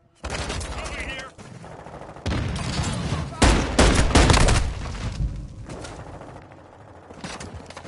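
Gunfire in a shooter game, bursts of rapid automatic fire and single shots crackling at close range, loud and dense, with voices speaking between the bursts.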